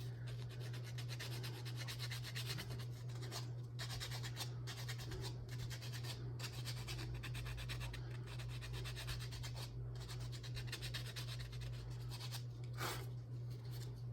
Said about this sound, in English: you're not sanding a long way, sanding the short way.